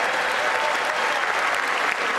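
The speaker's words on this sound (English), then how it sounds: "More bipartisan applause" Sustained applause fills a congressional chamber, dense and steady from start to finish, loud and close with no break in the clapping.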